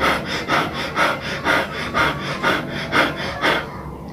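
Rapid rhythmic breathing, about eight quick in-and-out breaths in steady succession, close and clear with no talking, demonstrated as a breathing exercise.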